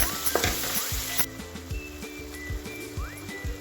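Ivy gourd masala frying with salt, chili powder and curry masala: steady loud sizzle with a quick stirring rhythm of spatula scrapes against the pan, and no voices.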